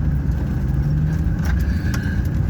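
Steady traffic rumble from cars driving past near a swampy pond at Ridgeway Park, a continuous close wash of road noise with no voices.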